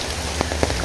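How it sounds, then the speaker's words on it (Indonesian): Rain falls steadily in Tasikmalaya, Indonesia, a dense close hiss of drops hitting surfaces with a few sharper individual drips standing out, and no voices. "sekarang di daerah Tasikmalaya sekarang hampir udah 2 hari hujan terus"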